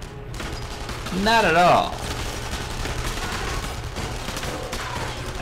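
Enemy gunfire rattles in the World War II shooter game Enemy Front, a dense, continuous background of distant shots beneath a brief spoken remark and a short whistling tone.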